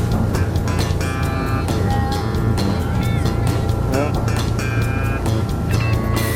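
Quintrex aluminium boat's outboard motor running steadily on the plane at about 21 knots, a continuous loud drone with water and wind rush throughout, and a voice speaking over it.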